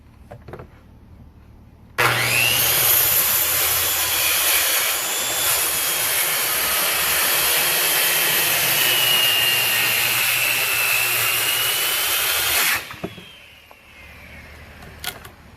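A power saw cuts through a piece of scrap wood for a surfboard decoration, a loud steady whining drone lasting about ten seconds that then stops abruptly, near and without talk.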